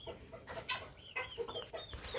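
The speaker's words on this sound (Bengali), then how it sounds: "এখানে আমার লেয়ার মুরগি আছে।" Layer hens clucking in a backyard poultry setup, several close, overlapping short clucks and murmuring calls in an irregular rhythm, fairly quiet with no talk.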